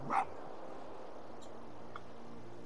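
Fox in the video game Spirit of the North giving one short, sharp bark near the start, with fainter yips after over a steady ambient hum.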